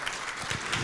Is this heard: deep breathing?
no